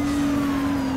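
A McLaren Spider's engine holds a steady hum in Need for Speed Rivals, loud and close with no break over one continuous second.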